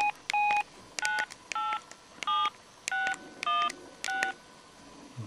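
An antique mobile phone gives a series of short, clean electronic key-press beeps, about eight or nine tones spaced roughly half a second apart, each a brief steady pitch, close and alone against a quiet background.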